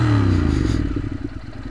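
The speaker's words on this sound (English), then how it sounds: "there's diesel already in the system, because when I accelerate, you can hear the noise. The noise is very different." A motorcycle engine running on diesel fuel accelerates nearby, starting as a loud low rumble that turns into a rough, uneven clattering putter as it fades slightly, with no voices.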